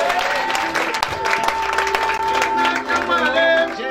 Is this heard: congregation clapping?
yes